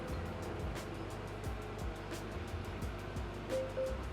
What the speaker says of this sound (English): You may be hearing my car making a lot of noise.